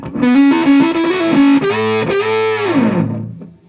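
A distorted electric guitar riff on a thick wound string, thick and saturated, playing a run of low, heavy notes up close with effects, then ringing out and fading.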